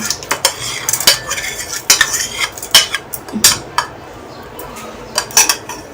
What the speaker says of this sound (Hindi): और अब इसके अंदर मैं चावल ऐड करूँगी। सारे चावल हम ऐड कर देंगे इसके अंदर।